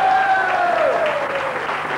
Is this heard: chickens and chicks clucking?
no